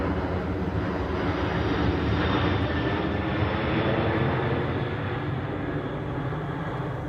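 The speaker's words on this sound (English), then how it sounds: "That's not commercial, that's military." A military fighter jet passes overhead, a broad, steady roar that swells slightly in the middle and then lingers at a fairly even level, with no talking.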